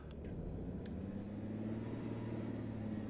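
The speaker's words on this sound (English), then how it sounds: "Is it going to start moving? It's moving!" A train in the Roblox game Grand Continental Railways pulls away from a stop with a steady low engine drone and rumble that holds evenly, accompanied by a couple of faint high clicks, with no talking.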